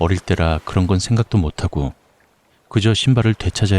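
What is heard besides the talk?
No everyday noises stand out.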